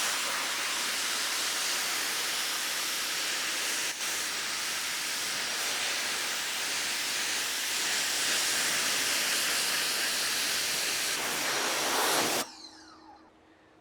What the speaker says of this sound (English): Pop our rinse nozzle back on.